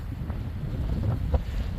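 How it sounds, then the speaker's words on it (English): Gusty wind buffets the microphone beside Doubtful Lake, Washington, a low muffled rumble with a few soft thumps and no voices. "It is a windy day. Sorry for the audio there."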